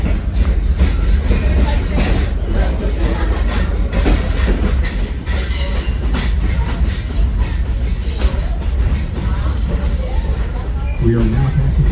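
A passenger train rolling along the Connecticut Valley line, heard from on board as a loud, continuous rumble with rattling carriages and wheel clatter, a murmur of voices blending into the din.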